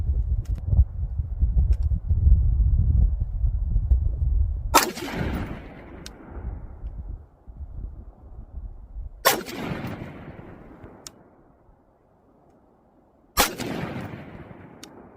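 Three loud rifle shots with 5.56 55-grain full metal jacket rounds at a 50-yard range, each a sharp blast with a long rolling echo, spaced several seconds apart.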